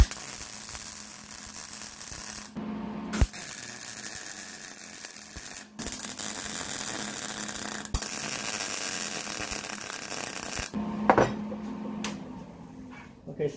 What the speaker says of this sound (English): let's go ahead and get this thing tacked up